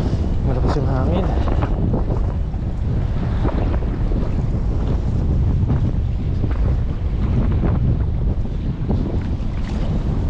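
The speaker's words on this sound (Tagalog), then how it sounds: "Malakas yung hangin." Strong wind batters the microphone in a constant loud roar with gusty buffeting, near what sounds like open water, and voices are faintly audible beneath it.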